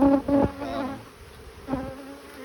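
Honeybees buzz steadily around an open hive being inspected during mite treatment, a close, continuous insect drone with brief louder swells as bees pass near, no talking.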